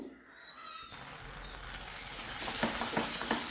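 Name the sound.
stirring food in a pan on high flame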